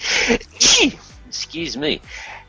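A sharp, loud sneeze bursts out near the start, followed by a person talking in a close, clear voice.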